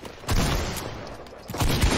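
Rapid bursts of gunfire in a Fortnite Chapter 2 match, loud and dense with two heavy volleys of shots close together, no voices over them.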